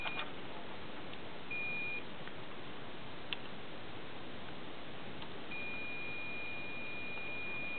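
A continuity tester clipped across a homemade dry-cell battery gives short thin electronic beeps, one brief near the start and a longer steady tone toward the end, over a constant hiss.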